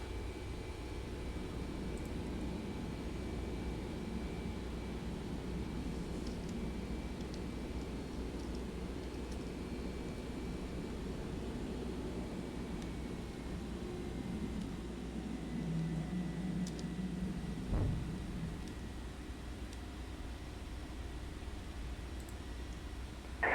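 Boeing 767-F in the X-Plane simulator taking off and climbing: a steady, broad engine roar with a faint whine, holding level throughout, with a brief thump late on.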